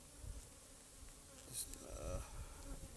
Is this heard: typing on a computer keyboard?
no